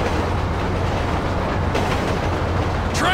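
A train in GTA V rolls steadily along the rails, with a constant low rumble and rhythmic rail clatter close by, heard alone without talk.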